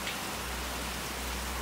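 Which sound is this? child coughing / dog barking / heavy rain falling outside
heavy rain falling outside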